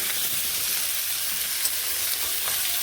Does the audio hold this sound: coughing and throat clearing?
no